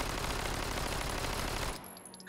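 A rapid, loud burst of automatic fire from a 9mm Agram 2000 submachine gun, fired one-handed in the VR game Hot Dogs, Horseshoes & Hand Grenades, lasting under two seconds before cutting off abruptly.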